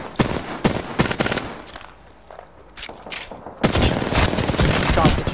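Bursts of rapid automatic gunfire in Apex Legends, loud and close, coming in clustered volleys with a short lull and then sustained firing, with a voice faintly under the shots.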